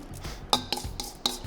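Silicone spatula scraping roasted cauliflower off a pan, three or four distinct close scrapes with clatter in a quiet kitchen, no talking.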